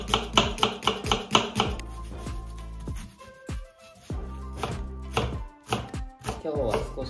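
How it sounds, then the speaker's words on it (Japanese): A knife finely chops a peeled onion on a cutting board, starting with a fast, even burst of close, crisp taps, then slower, uneven strokes and a few scraping sounds, with no talk. "玉ねぎを皮を剥いてみじん切りにしていきたいと思います"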